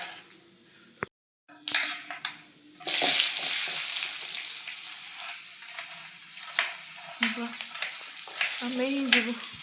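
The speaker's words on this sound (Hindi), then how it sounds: "कढ़ाई में तेल डालने के बाद कबारी कटा हुआ प्याज को हमने तेल में डाल दिया था।" Chopped onions frying in oil in a kadai, a steady loud sizzle that begins abruptly and holds throughout, after a few scattered clinks of cookware.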